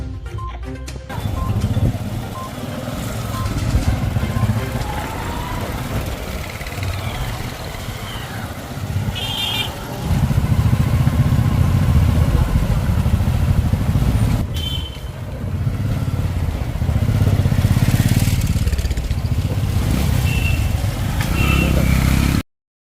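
Motorcycles ride past in a police helmet-awareness rally and road show in Tekkalakote, Siruguppa, their engines a steady, fairly loud drone that rises and falls as bikes pass, with crowd and street noise mixed in throughout.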